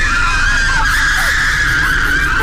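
Disciples flee from burns with a sustained, high, strained scream that holds steadily over a dense, loud noisy background for a couple of seconds.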